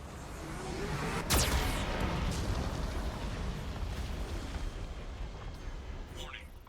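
A Geth cannon in the Mass Effect video game fires with one sharp, loud boom, then a long rumbling roar trails off across the next several seconds.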